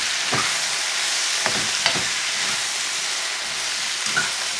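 Smothered potatoes in a stainless steel pan sizzle in a steady, hissing fry, while a fork scrapes and taps against the metal several times as they are stirred.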